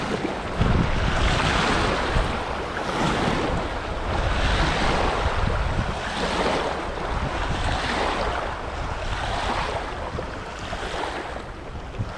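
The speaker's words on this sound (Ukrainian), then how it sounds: "Море." Steady roar of sea waves washing in and out in slow surges, with wind buffeting the microphone throughout.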